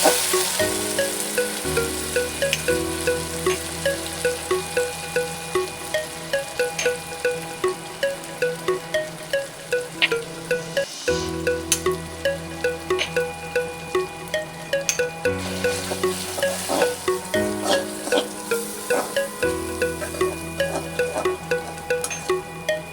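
Spices for matar paneer sizzle and crackle steadily in a hot pan, with repeated scraping and stirring strokes throughout and no talking.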